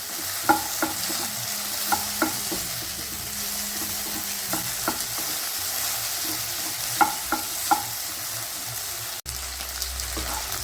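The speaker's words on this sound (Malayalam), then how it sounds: "നമ്മളിനി നന്നായിട്ട് ഇതൊന്നും കൂടി ഒന്ന് വഴറ്റണം." Vegetables with diced potato and onion sauté in hot oil in a pan, a steady sizzle under repeated scraping stirs from a spatula, close and even throughout.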